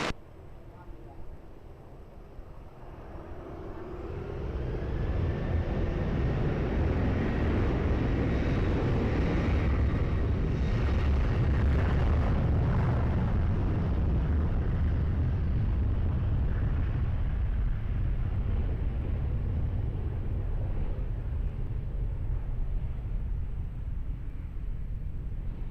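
An airliner takes off from runway 20 at Lisbon Airport, its jet roar swelling from a distant rumble into a loud, sustained thrust noise that holds steady for about twenty seconds.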